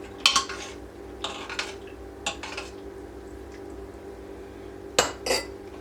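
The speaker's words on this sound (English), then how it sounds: "I'm going to stir this around just a little bit to kind of incorporate it into all of the milk that's in here" A utensil stirring milk in the metal pot of an Instant Pot, with a few sharp scattered clinks and scrapes against the sides over a steady low hum.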